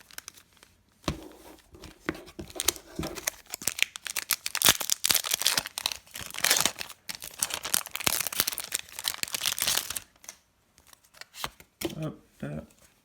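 Crinkly foil wrapper of a Pokémon card booster pack being torn open and handled, dense rustling and crackling for several seconds, close and fairly loud, with a voice speaking briefly around it.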